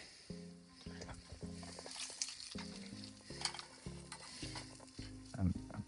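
Bacon sizzles and fries on a camp stove outdoors, a steady crackle under repeated stirring and utensil scrapes against the pan, fairly quiet and close.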